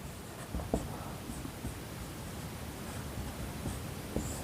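Chalk or a marker scratches across a board while a math problem is worked out, a steady soft rustling with a few sharper taps, under a constant hiss.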